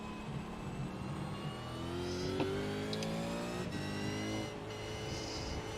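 Race car engines in the iRacing sim, a pack of cars running nose to tail, a steady loud drone of several engines with pitch rising and falling as they rev and shift, no talking.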